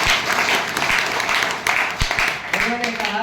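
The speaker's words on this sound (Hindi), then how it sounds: "एक बार जबरदस्त ताली बजाएं।" Seminar audience applauds a business founder, a sustained wash of clapping filling the room, with a loud announcer's voice cutting through intermittently near the end.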